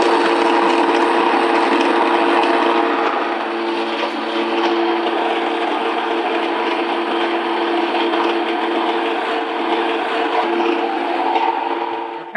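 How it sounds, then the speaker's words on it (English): An electric grain mill set to a medium-to-fine grind runs steadily, grinding wheat berries into whole grain flour with a loud, continuous whirring drone that holds throughout. "this is on medium to fine grind. And all we gotta do is dump in our wheat berries"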